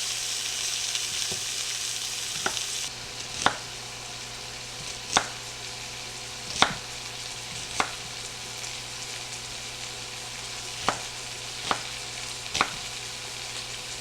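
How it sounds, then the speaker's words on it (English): Onions and peppers sizzle in a skillet with a steady frying hiss, while occasional sharp clicks and taps of stirring recur every second or so; no voices. "We're going to cook this down for about 2 to 3 minutes until the onions are softened."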